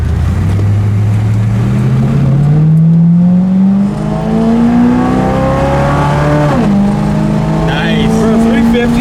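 A 1972 Chevrolet Chevelle with a 350 V8 accelerates hard, its loud, close engine note climbing steadily in pitch through the gears with a brief shift dip, raspy exhaust roar throughout.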